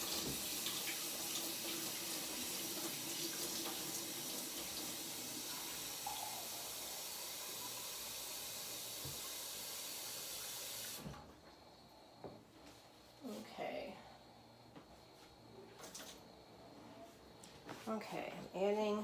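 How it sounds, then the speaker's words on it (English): Cold water runs steadily from a tap into a mixing bowl for bread dough, a loud continuous rush that stops partway through, followed by quieter kitchen clatter and a voice speaking. "I do add 2 cups of cold water"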